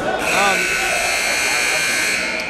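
A loud, sustained electronic buzzer drones steadily for a couple of seconds at a high school sports game, with faint voices underneath.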